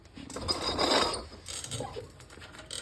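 A wrench works the rear axle bolt of a dirt bike during a wheel swap, making soft metallic ratcheting and clicking with a few sharper taps, close and fairly quiet.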